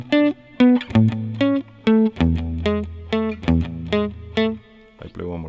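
Electric guitar run through effects plays a riff: a series of clipped, distorted chord stabs in a steady rhythm, with a few sustained low notes ringing under them, close and loud and heard alone.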